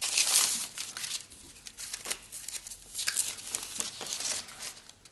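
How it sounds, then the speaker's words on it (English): Sheets of watercolour paper being torn by hand, heard as close, dry ripping and crinkling bursts in an uneven rhythm with brief pauses between tears. "I'm just going to tear the paper in preparation for attaching it to my board."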